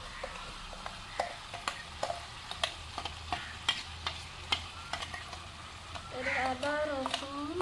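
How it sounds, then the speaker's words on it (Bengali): Mustard paste made from mustard, ginger, garlic and green chili frying with tomatoes in a Bengali-style potato-tomato curry, a soft steady sizzle broken by sharp spoon scrapes and clicks against the pan, with a voice briefly speaking near the end. "এবার দিয়ে দেবো সরষে বাটা।"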